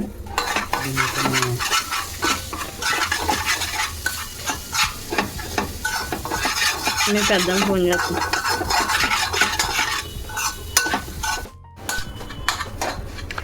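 Egg being cooked and mixed in a pan while a frying sizzle runs underneath, with constant scraping and stirring strokes and clinks of a utensil against cookware, close and busy throughout.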